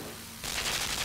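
Gunfire in the video game Limbo bursts in suddenly after a quiet moment, a harsh, noisy rattle of rapid shots that holds loud to the end, with no talk.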